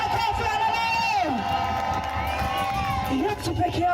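A church congregation cheers and shouts in praise of Jesus, a dense crowd roar that runs throughout, with one loud raised voice carrying over the top.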